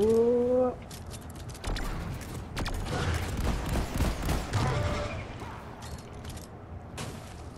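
Shotgun blasts and gunfire against bugs in Deep Rock Galactic: several sharp, close shots in quick bursts with creature screeches, dense cave combat clatter throughout.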